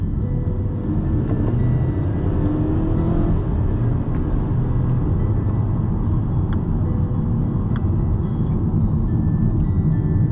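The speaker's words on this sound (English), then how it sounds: "it's my first time driving an XC40 on such a short journey" A Volvo XC40 cruises on a road drive around Penang island, a steady low rumble of engine and road noise heard from inside the cabin, with no talking.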